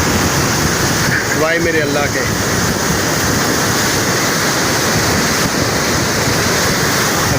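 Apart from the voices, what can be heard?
river water rushing through Head Marala on the Chenab river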